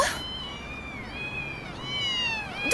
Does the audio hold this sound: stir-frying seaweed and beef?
no